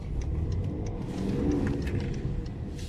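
Steady mid-pitched engine drone from a 2010 BMW X6 with the 2.6 M57 diesel, heard from inside while driving with the accelerator pressed, a constant hum with a slight swell midway.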